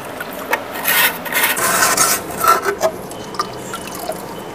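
A green sponge scrubber rubs and scours fish tank parts during cleaning, giving a steady rasping scrub in repeated strokes that swell and fade, close by and alone with no talking.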